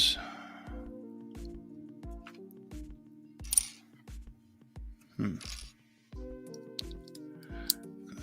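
A small plastic part snaps into place during assembly with a quick run of light clicking and clacking taps, faint and close, spread across quiet moments between handling noises.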